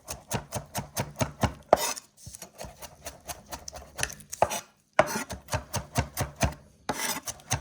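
Knife chopping shallots on a board in a home kitchen, rapid rhythmic bursts of close, crisp strokes separated by brief pauses, with no talking.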